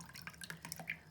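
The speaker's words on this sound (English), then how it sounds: "Now I'm going to pour off all of the pulp" Fermented tomato pulp and water poured off from a jar of seeds, giving close, soft liquid splashes and drips in an irregular trickle, heard alone with no talking.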